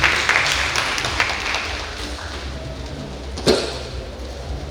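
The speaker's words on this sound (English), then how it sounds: "So please a round of applause to Dr. Ulka as she marches forward." An audience at a health forum applauds a speaker, a dense wash of clapping that starts loud, fades gradually over several seconds and carries a single sharper thump partway through.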